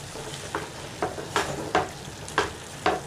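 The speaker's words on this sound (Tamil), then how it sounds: "கொஞ்சம் கலக்கி விடுங்க" Cauliflower poriyal being stirred in a frying pan: a steady low sizzle broken by about six scraping stir strokes at regular half-second intervals, close and fairly quiet, with no talking.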